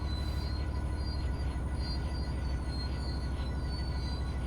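Steady low rumble of a train rolling with its brakes on in Train Sim World 3, Cathcart Circle Line, with a constant drone and faint high squeals, continuous and fairly loud, no voices.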